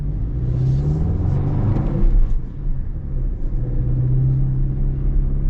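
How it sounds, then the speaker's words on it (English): A turbocharged 2024 Toyota Tacoma pickup with a manual transmission accelerates, its engine a steady, close, loud rumble with a rising whir, without talk. "Driving a turbocharged truck with a manual."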